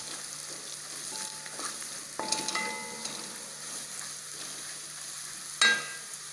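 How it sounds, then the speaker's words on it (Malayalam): Vegetables with biryani masala and turmeric being stirred in a pan for vegetable biryani, giving a low, steady sizzle with a few soft scraping clinks partway through and one sharper scrape near the end, no voices. "ഇനി നമുക്കിതൊന്ന് ഇളക്കി കൊടുക്കാം."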